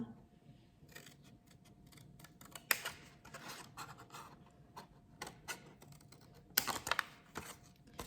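Paper advent calendar box being cut by hand at a desk, a run of close, dry snipping and scratching strokes with sharper crisp bursts near the end, no talk.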